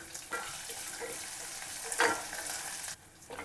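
Onion and curry leaves fry in a pan for a cluster beans curry, a close crackling sizzle with stirring scrapes, swelling around the middle before dropping quieter at the end.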